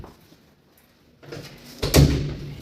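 Double doors of a small storage room in an apartment being opened, a soft rolling movement followed by a louder knock or thud as the doors come open, close by in a quiet room.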